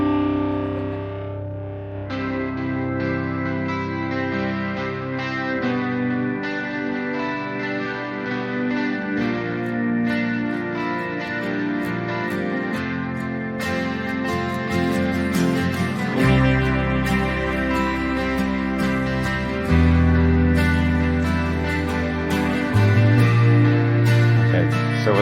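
A rock track with heavy, distorted power chords ringing out over drums, loud and sustained, with echoing effects and chord changes throughout.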